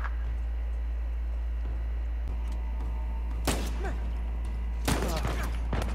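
Gunfire in the video game Uncharted 4, two sharp, loud broadband bursts a little over a second apart, the second a rattling volley, over a steady low hum and faint background game noise.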